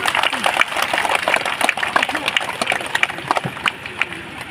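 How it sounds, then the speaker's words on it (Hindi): Loud crowd applause fills the space welcoming Pinky Didi at a village panchayat gathering in Moramba, dense steady clapping with scattered sharp claps throughout. "जोरदार ताली से पिंकी दीदी का स्वागत कीजिए।"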